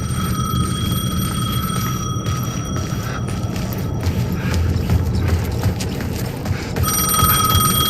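Telephone ringing inside the Alan Wake video game, a bright repeated electronic ring over a steady low ambient hum, with a break in the ringing before it resumes near the end.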